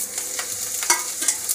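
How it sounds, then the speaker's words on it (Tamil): Hot oil sizzles and crackles softly, with a few sharper pops and spits as chillies and spices hit the pan for tempering puliyodarai rice; no one speaks. "இப்போ வந்து சாதத்துக்கு வந்து தாளிக்க போகிறேன்"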